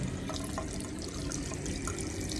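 Tap water runs steadily into a plumbing valve being filled, making a continuous, close rushing and splashing sound with no pauses or talk.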